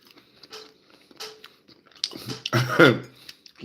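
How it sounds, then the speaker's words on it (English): Someone chews and munches on leftovers close to the mic, with quiet wet mouth sounds growing into louder crunchy bites near the end, and no speech. "I'm just munching."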